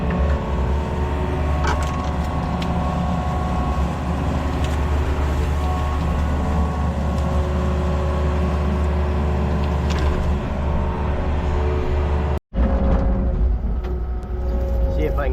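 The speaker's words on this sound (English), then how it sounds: "I think I'll take that one to the pile with the skid steer" A skid steer drives with its blade lowered, a loud, steady diesel rumble and engine drone filling the whole stretch, briefly cut near the end.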